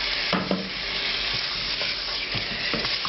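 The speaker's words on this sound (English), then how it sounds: "Now I'm going to add the tomato sauce." Tomato sauce hits hot fat and frying spices in a pan for a lamb bhuna curry, a steady loud sizzle with a few stirring scrapes and spoon knocks, no talking.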